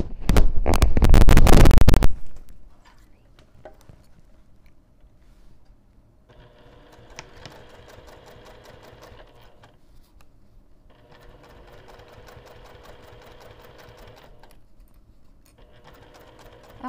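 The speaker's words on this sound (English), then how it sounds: "let me take this back over to the sewing machine and I'll sew through at least one of the corners" A sewing machine runs in three steady bursts of rapid stitching, separated by short pauses, after a brief loud rustle at the start.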